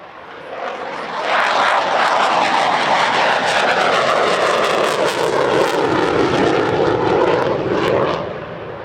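A Saab JAS-39C Gripen fighter of the Czech Air Force's 212th Tactical Squadron roars past at Radom Airshow 2023, its loud, broad engine rush swelling within a second, holding steady for about seven seconds, then beginning to ease, with no voices.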